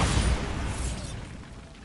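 A Bombarda blast spell from the Hogwarts Legacy video game erupts as a loud, broad boom at the start, then rumbles and fades over a couple of seconds, with no talk.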